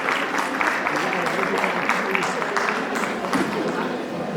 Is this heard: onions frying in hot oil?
no